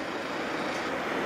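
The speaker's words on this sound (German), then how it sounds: "Ihr hört es wahrscheinlich auch im Hintergrund, das rauscht hier überall." Steady broadband rushing of the Espelandfoss waterfalls in Norway, a continuous close roar of falling water with no breaks, heard alone without voices.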